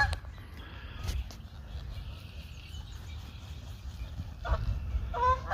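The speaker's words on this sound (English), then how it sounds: "Oh, there's some more geese flying by." Geese honk as they fly over a lake, scattered calls that are faint to moderate, with a louder burst of honking near the end over outdoor ambience.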